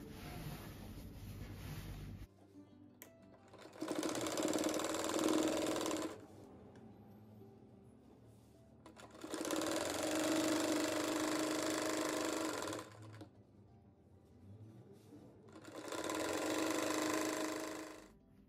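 Sewing machine running in three long stitching bursts on a 3D rug, a steady close whir that starts and stops with quiet gaps between runs.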